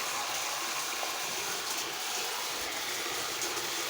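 A running electric shower in a home bathroom gives a steady, close, full-bodied water hiss that holds at an even level throughout, with no voices over it.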